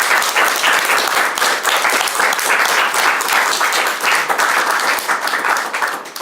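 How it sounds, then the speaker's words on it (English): An indoor audience gives a round of applause for five speakers at an Armenian Institute event, dense steady clapping loud and close throughout with no talk over it. "So if we could give you a round of applause."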